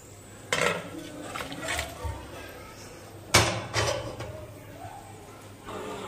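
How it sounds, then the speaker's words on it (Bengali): Red meat curry being poured into a cooking pot in a home kitchen, with clattering metal contact, stirring scrapes and a soft sizzle, two sharper clanks standing out amid quieter rustling. "ঢেলে দিই হ্যাঁ তরকারিটা"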